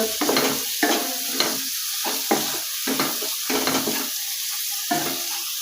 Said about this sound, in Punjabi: ਇਹਨੂੰ ਭੁੰਨਾਂਗੇ ਇੱਕ ਅੱਧਾ ਮਿੰਟ